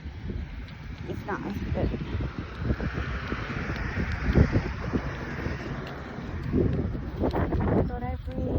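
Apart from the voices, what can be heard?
wind blowing on a walk to the park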